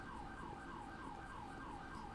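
An emergency vehicle siren wails in the video game GTA 5 near a farm. A rapid, regular rising and falling tone repeats steadily, fairly faint and distant over a low rumbling background.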